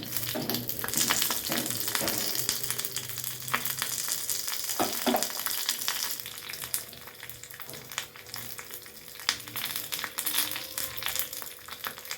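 Fenugreek seeds sizzle in heated virgin coconut oil for a homemade herbal hair oil, giving a dense, continuous crackling hiss with scattered pops and a few faint stirring scrapes, close and even throughout.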